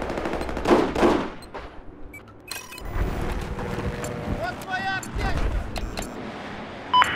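Gunfire in the video game Battlefield 4, with bursts of shots over loud in-game battle noise, vehicle rumble and wind, partly under someone talking.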